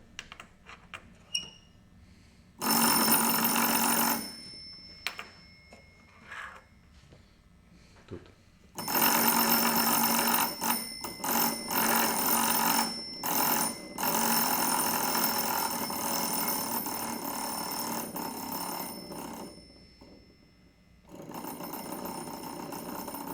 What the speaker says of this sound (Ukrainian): Фіксуйте, як при цьому змінюється гучність і висота звуку, який видає дзвінок.